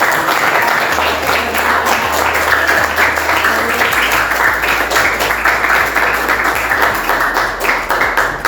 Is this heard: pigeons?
no